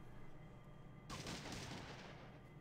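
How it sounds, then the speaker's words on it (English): A burst shotgun firing in the Fallout 2 video game, a sudden loud roaring blast of rapid shots that starts abruptly and rumbles on for over a second before fading, with no talk. "Is that a burst shotgun?"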